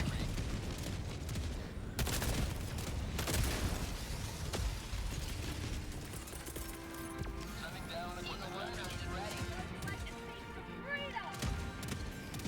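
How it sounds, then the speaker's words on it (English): Rocket sentry in Helldivers 2 firing repeatedly, sharp blasts and bangs in a steady barrage of shots and impacts, heavy game noise throughout with voices speaking over it. "I'm a little worried about my rocket sentry blasting me in the back of the head"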